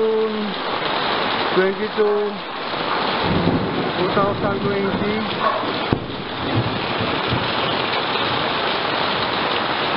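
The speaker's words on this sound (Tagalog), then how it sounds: "Ang lakas po ng ulan." Heavy rain pours steadily on a house during a storm, a loud continuous hiss with some wind noise. A voice speaks over the downpour.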